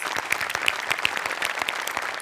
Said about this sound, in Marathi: तुझ्यासाठी विशेष टाळ्या.